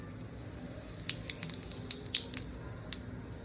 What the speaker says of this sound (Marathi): तेल गरम झाले की जिरे टाकून घेऊया.